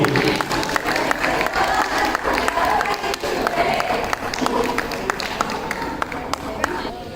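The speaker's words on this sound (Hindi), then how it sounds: "जोरदार तालियां टेंथ के बच्चों के लिए" Loud applause and crowd noise for tenth-grade students at a school Diwali celebration, a steady wash of clapping with scattered sharper claps and voices mixed in throughout.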